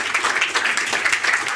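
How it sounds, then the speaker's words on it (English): Audience applause for a speaker being introduced at a youth climate event, a steady, dense burst of many hands clapping, fairly loud and close, with no voices over it. "please give her an applause"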